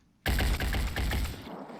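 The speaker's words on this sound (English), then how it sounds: "That was not our heavy. That was an assault rifle." An assault rifle in the tactical game Phoenix Point fires a rapid burst of loud, close shots in a quick rhythmic string lasting about a second, then tails off.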